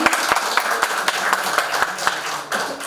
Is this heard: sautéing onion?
no